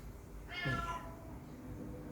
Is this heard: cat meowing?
yes